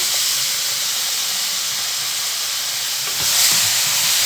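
Steady hiss and sizzle from bottle gourd cooking in a pan as four medium ground tomatoes go in, the sound swelling briefly near the end; no talking.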